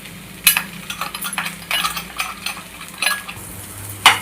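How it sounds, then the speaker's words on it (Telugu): Spice powder being stirred into okra fry in a pan, a spoon scraping and clinking against the metal in a steady run of short strokes, close and fairly quiet, with a sharper clink near the end and no talking. "ఇలా మసాలా వేసి కలుపుకున్నాను"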